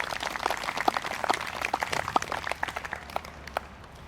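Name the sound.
applause from concert audience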